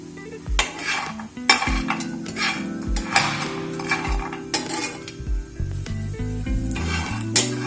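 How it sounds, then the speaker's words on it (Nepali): Masaura pieces fry in hot oil in a pan while a metal spoon stirs them, giving repeated sharp clinks and scrapes over a continuous close sizzle, with no talking. "तेल तातिसकेपछि हामीले मस्यौरा हालेर मस्यौरालाई केही बेर चलाउँदै भुट्दै गर्नुपर्छ।"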